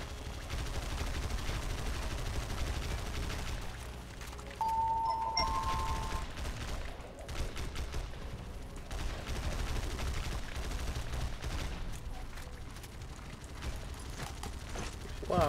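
Rapid video game gunfire rattles continuously through the whole stretch, loud bursts of shots over a busy game soundscape with a brief tonal effect partway through.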